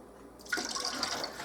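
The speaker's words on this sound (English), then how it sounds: "I'm also going to put a little splash of vinegar" A short splash of vinegar poured into canning water, starting abruptly after a brief quiet and continuing as a bright, bubbling pour.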